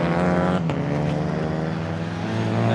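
Clio Cup race cars lapping Autodromo Nazionale Monza, a loud sustained engine drone with shifting pitch as cars pass, one sharp burst near the start.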